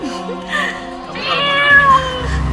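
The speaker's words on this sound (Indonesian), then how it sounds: "Ini kucing cakep banget." A cat meows close by, a couple of short, bright mewing calls over about two seconds, with faint background sound.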